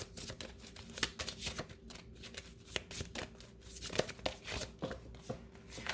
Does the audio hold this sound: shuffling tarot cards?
yes